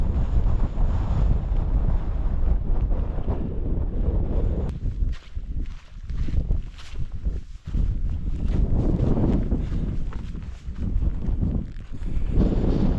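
Strong, steady wind roars and buffets the microphone on a mountain summit at about 561 m in the Lake District, gusting louder and softer with no other clear sounds.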